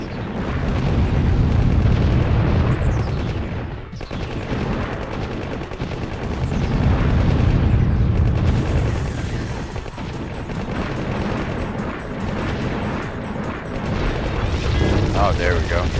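Continuous gunfire and explosions from the Contra video game, a dense, loud barrage of shots and blasts running throughout with no pauses, under a steady mechanical din.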